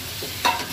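Garlic and tomato frying in a pan give a brief sizzle with a quick stirring scrape, close and fairly loud, lasting under a second.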